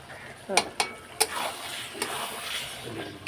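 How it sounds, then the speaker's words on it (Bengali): Curry sautéed with salt in a pan, with a few sharp spoon-on-pan clacks over a steady close sizzle and stirring scrape. "এখন নুনটা দিয়ে ভালো করে একটু কষিয়ে নেব"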